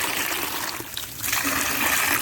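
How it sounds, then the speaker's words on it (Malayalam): Water pours and rushes steadily into a container for organic fertilizer slurry, growing fuller and louder toward the end; close, with no speech. "ഇതിലേക്ക് പത്ത് ലിറ്റർ വെള്ളം ചേർത്ത്"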